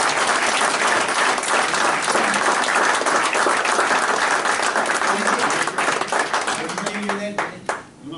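An audience at a presentation event applauds team members who stand up, dense sustained clapping from many hands filling the room, tapering off near the end with some voices.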